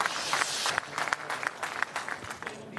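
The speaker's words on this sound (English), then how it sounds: "Applause after every shot, regardless of the team." Padel crowd at the Betsson Swedish Master round of 16 claps after a rally, a moderate spread of applause with sharp individual claps, fading slightly toward the end.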